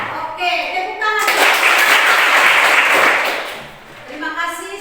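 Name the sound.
classroom applause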